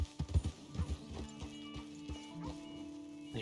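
Horse hooves clip-clop in the video game Red Dead Redemption 2, a run of quick, fairly close hoofbeats at the start that settles into softer, spaced steps over a low background tone.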